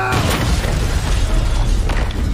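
A bomb explosion in a war film scene: a heavy, rumbling boom with crackling debris that fills the whole stretch, loud and close, with no voices over it.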